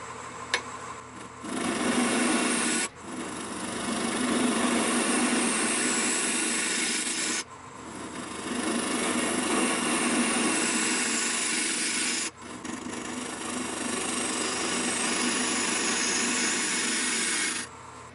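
Wood lathe spinning a pecan wood bowl at 375 RPM, giving a continuous rough rubbing and scraping drone that is broken by brief pauses, loud and close.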